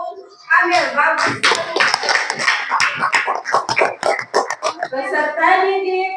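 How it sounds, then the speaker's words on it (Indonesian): Classroom applause for a student, a loud burst of many hands clapping close by, mixed with children's voices and cheering throughout. "Oke, berikan aplaus dulu untuk Amel."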